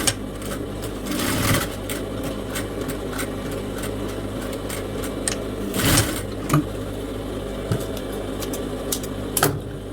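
Sewing machine stitching a ruffled aso-oke headband, a steady whirring mechanical drone with a loud clack at several moments as the fabric is handled, running close and continuous without speech.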